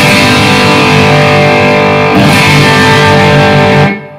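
Electric guitar through an amp with power tube distortion set at 75%, a sustained, heavily saturated chord ringing alone, swelling slightly midway before cutting off abruptly near the end.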